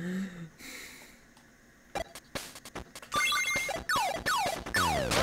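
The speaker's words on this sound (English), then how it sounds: "my phone was doing something and I needed to look at it, and it was just a notification from YouTube" Phone notification chime ringing out loud and near, a rising series of bright electronic tones that repeat and swell toward the end, following a few soft breaths and clicks.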